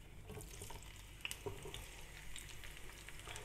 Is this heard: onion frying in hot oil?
yes